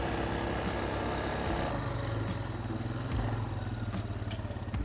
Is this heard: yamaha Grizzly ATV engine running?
yes